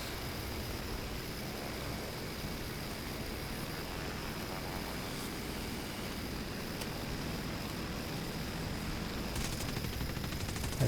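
Tail gunner machine gun firing from a bomber in a War Thunder realistic air battle, faint steady rattling bursts under a constant aircraft engine drone, no talk.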